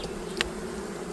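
Honeybees buzz steadily around a plastic-frame hive that is low on bees, a close, continuous drone with one brief louder pass near the start.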